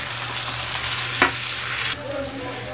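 Ginger and green chili paste hits a pan of cooking papaya with Govindobhog rice, a loud, steady frying sizzle with a single clink of a spoon midway before the hiss quietens slightly.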